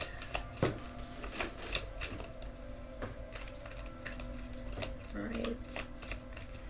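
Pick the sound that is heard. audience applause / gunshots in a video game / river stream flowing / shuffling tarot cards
shuffling tarot cards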